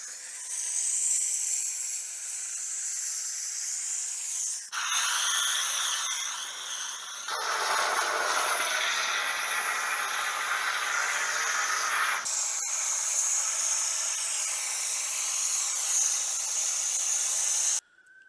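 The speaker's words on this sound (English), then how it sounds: "I got me this steam cleaner." A steam cleaner blasts hot steam in a chicken coop against red bird mites, a loud continuous hiss that shifts in tone several times as the nozzle moves across surfaces, running nearly eighteen seconds without talk.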